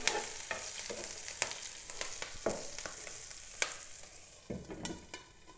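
Green chillies fry in oil in a pan, a soft crackling sizzle punctuated by frequent sharp pops and spatters at an uneven rhythm.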